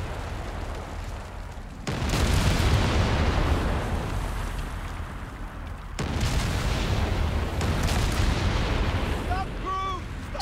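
Rapid artillery fire in the Company of Heroes 3 strategy game, heavy booming blasts with a loud step-up around two and six seconds, sustained and dense, with someone talking over it.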